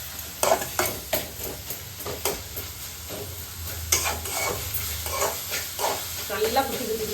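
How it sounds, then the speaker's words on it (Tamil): Tomatoes with a little salt fry in a pan for kari dosai, a steady sizzle under repeated spatula scrapes and taps against the metal at an irregular rhythm. "தக்காளியும் வதங்கிறது கொஞ்சம் உப்பு வதக்கிட்டோம்."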